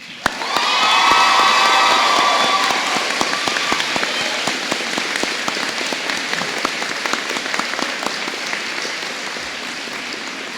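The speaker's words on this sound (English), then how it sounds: "And for that roaring applause for them as well." A graduation ceremony crowd erupts in roaring applause, with whoops and cheers rising early over dense, steady clapping that carries on loudly throughout.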